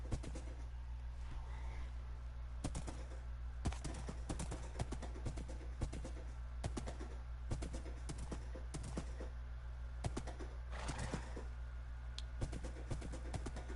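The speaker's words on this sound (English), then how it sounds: "This is a horse." A horse's hooves clip-clop in steady, evenly spaced knocks over a low background hum, with faint bird calls mixed in and no talking.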